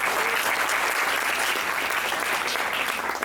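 University auditorium audience at an anti-ragging awareness event breaks into dense, sustained applause, a loud, even wash of many hands clapping at once with no voices over it.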